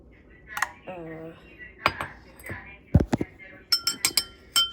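Whisked egg scraped out of a bowl onto a mini Dash griddle, with a run of sharp clinks and scrapes of utensil against the bowl, some in quick bursts, near and close-up between a voice speaking.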